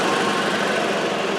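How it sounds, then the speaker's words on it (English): A car engine running rough while idling with the headlights on, a close, steady mechanical drone with uneven vibration that persists throughout, no one speaking. "See, engine run rough right now."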